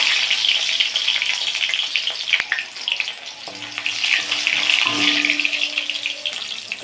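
Panch phoron, dry red chili and tomato fry in hot oil, a steady bright sizzle close up that hisses on continuously with a brief clink partway through.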